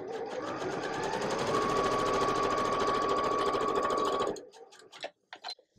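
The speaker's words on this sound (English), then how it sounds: "and then I'm going to sew it" A sewing machine runs steadily for about four seconds, stitching a seam on a Slow Summer Stars quilt block, a loud continuous mechanical whir with a sustained tone that stops abruptly, followed by a few faint handling clicks.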